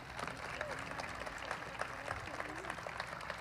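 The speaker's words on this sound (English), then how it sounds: "how about a round of applause for the Lekwungen traditional dancers?" An audience applauds the young Lekwungen traditional dancers at a campus opening in Langford, a soft, steady patter of many hands heard from a distance with murmuring voices underneath.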